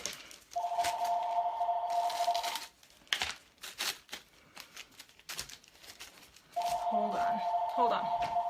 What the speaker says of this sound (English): Ignore the phone.